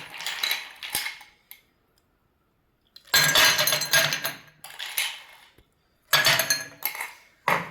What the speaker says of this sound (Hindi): ये मैंने लिए हैं 2 गिलास। इनमें मैं डालूंगी थोड़ी सी बर्फ